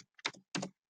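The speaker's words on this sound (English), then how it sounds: "And as I start typing" Two quick, close clicks of keys on a computer keyboard, with a sharp tap at the very end.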